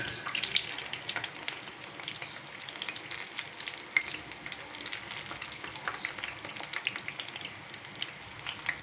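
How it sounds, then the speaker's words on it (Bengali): Green pitha cakes fry in hot oil, giving a steady, close crackling sizzle with dense spitting pops throughout and no talking. "আর এইদিকে আমার পিঠাগুলোও কিন্তু ভাজা হয়ে গেছে"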